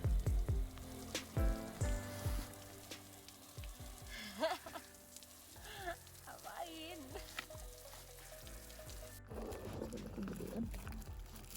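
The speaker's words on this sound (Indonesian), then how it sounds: "Pukul 7 pagi hujan mulai sedikit reda" Rain easing off on Mount Agung in Bali in the early morning, a light patter and sizzle mixed with clattering, tonal noises and faint background voices.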